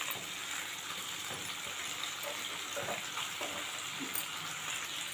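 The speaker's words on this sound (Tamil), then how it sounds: "இப்போ இதில் உருளைக்கிழங்கு போட்டுடலாம்." Potatoes drop into a hot frying pan of vegetables for a bread sandwich filling, setting off a steady, close sizzle with faint crackles and stirring. No one speaks.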